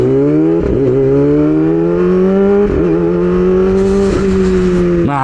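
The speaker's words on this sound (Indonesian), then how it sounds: "Nah ini nih suara Leovin level 10 gue." Motorcycle exhaust from a Leovin level 10 aftermarket pipe, a loud close engine droning at a steady pitch that rises slowly, broken by several quick throttle blips and gear-like dips.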